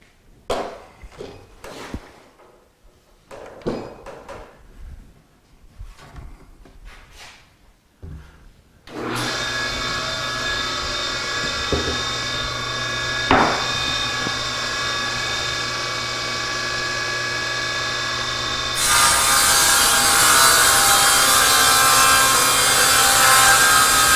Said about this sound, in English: I'm going to cut a piece 12 inches wide and cut the other pieces from that.